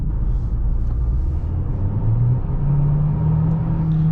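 A Mercedes GLA SUV (2021) accelerates on a highway, its engine and road noise forming a steady low rumble that climbs slightly in pitch as speed builds, with no talking.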